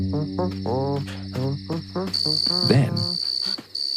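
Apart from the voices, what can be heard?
cricket chirping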